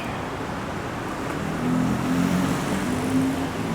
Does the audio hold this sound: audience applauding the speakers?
no